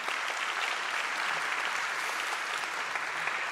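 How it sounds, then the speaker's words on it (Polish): Applause from a gala audience at a Silesian regional government anniversary ceremony, a steady dense clapping wash that holds evenly for a few seconds, close and full, with no voices over it. "Wielkie brawa."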